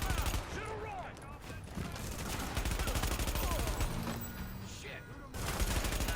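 Video game gunfire in The Division, a sustained fusillade of rapid automatic shots and bursts in a combat firefight, loud and dense throughout, with brief lulls.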